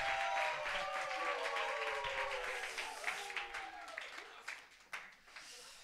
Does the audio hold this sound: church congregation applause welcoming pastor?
yes